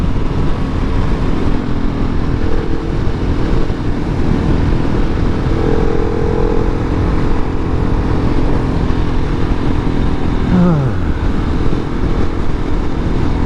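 2019 KTM 690 SMC R motorcycle on a ride, engine droning steadily under heavy wind rush, with a brief rise in pitch near the end.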